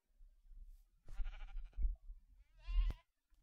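Two distinct sheep bleats in Minecraft, quavering, nasal cries separated by a short pause, fairly quiet with low rumble between them.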